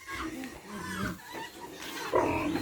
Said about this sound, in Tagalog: Ito yung babuyan namin.